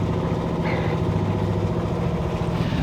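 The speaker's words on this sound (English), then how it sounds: "we might have turned the engine back on" A sailboat's engine runs steadily on a calm, windless stretch of Alaska's Inside Passage, a constant low droning hum with no talking.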